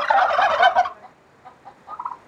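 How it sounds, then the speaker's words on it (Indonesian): Turkeys at a farm in Grabag, Magelang, Indonesia, let out a loud, close burst of rapid gobbling, followed by a few fainter, shorter gobbles. "Ini ayam kalkun, walaupun bukan ayam asli Indonesia"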